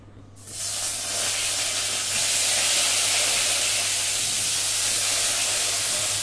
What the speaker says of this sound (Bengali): চলো বেগুন ভাজাটা বসিয়ে দিই।